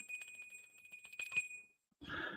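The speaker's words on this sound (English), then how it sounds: "I've just realized it's 1:45 in the morning and I'm dinging a bell" A small bell is dinged in a quiet room, giving one clear, sustained ring that slowly fades into silence before a short burst of other noise.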